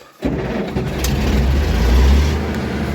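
A T-150-K tractor engine, left standing for two or three months, catches after a brief quiet moment and settles into a loud, steady low diesel rumble that swells slightly before easing off.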